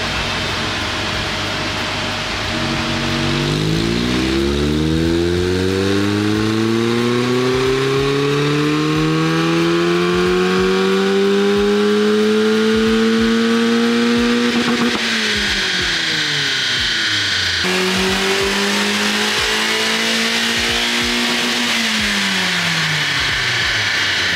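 A near-stock Mazda MX-5 with an aftermarket exhaust is revved repeatedly during a tuning session. The engine climbs from idle in long rising sweeps, drops off, then climbs again, loud and close, with no talking.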